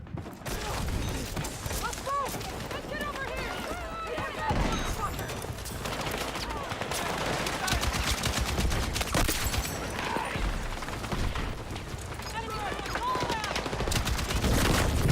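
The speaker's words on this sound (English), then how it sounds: "I think that's the machine gun." Sustained video game machine-gun fire, dense and rapid bursts with scattered gunshots and mechanical clatter throughout, loud and continuous, with occasional voice chatter underneath.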